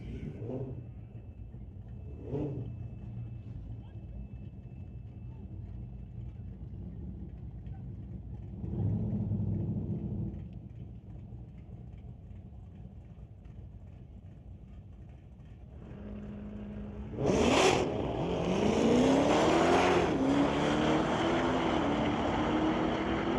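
A Corvette and a Dodge Demon line up for street-legal drag racing at Mission Raceway Park: a steady low engine rumble, then a sudden loud roar as the cars launch and pull away.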